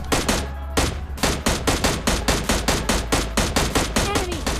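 Rapid bursts of gunfire from a mobile shooter video game, a fast steady stream of loud repeated shots lasting several seconds with a low hum underneath.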